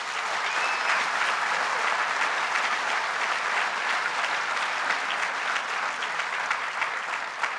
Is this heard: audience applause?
yes